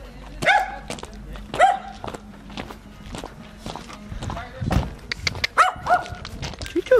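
A puppy yips and barks in short high bursts at the place it is being picked up, with footsteps and people talking close by throughout.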